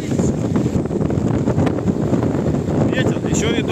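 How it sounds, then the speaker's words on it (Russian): Steady roaring wind buffets the microphone throughout in open fields with rain, loud and continuous, with faint higher chirps near the end. "Ветер, еще и дождь."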